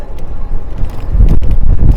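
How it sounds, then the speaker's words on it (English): Gusty wind near the Washington Monument buffets the microphone in low rumbling bursts, growing stronger toward the end. "Oh, it's windy up here. It's always windy up here."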